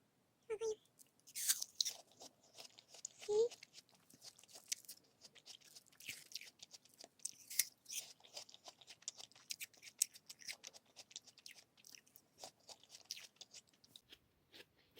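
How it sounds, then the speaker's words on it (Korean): Sliced apple eaten with peanut butter, giving close, crisp crunching and chewing bites in irregular bursts, with a couple of sharper bites early on and steady smaller crunches throughout. "저도 드디어 땅콩 버터랑 사과 조합을 먹을 수 있어요"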